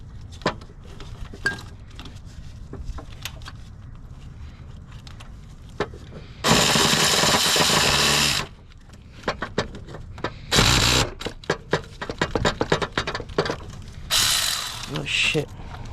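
A ratchet with a short swivel extension turns the starter bolt on an Acura TL, giving rapid clicking bursts between quieter scrapes and clanks of tools, close by.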